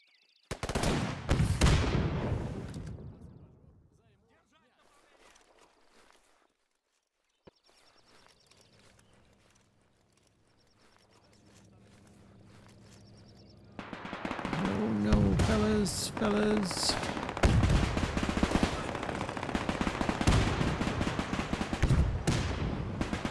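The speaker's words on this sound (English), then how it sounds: "Oh, yeah, they got big guns over there." Heavy gunfire and explosive blasts in the Men of War II war game, with dense crashing bursts at the start, a quieter stretch of low rumbling ambience, then sustained loud battle noise of rapid shots.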